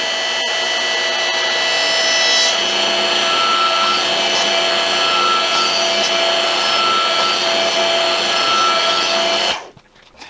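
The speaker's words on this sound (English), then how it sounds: "now I'm going to move the ram 3 or 4 times, and that's going to allow the hydraulic system to clear out any air" A DR 4-ton electric log splitter runs steadily with a loud, continuous motor whine as its hydraulic ram cycles, holding nearly constant before cutting off abruptly near the end.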